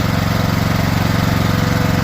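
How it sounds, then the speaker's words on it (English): A Trail King hydraulic power unit's small engine running steadily, a loud, close, even throbbing drone with no change in pace and no talk. "You do not need to turn this to start the engine."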